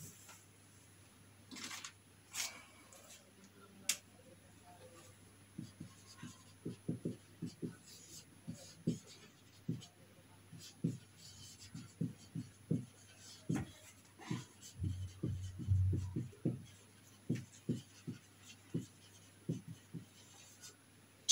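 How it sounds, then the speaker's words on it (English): Pen writing on paper during a grade 10 social studies lesson: a run of short, rhythmic scratchy strokes in steady bursts, fairly close, over a low constant hum. "Let me write some"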